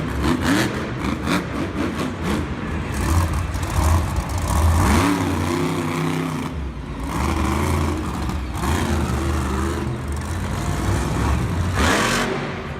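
A Monster Jam monster truck at the Raleigh stadium show revs its engine hard and continuously while balanced on its nose in a moonwalk, a loud roaring drone that rises and falls with throttle over crowd noise and faint commentary.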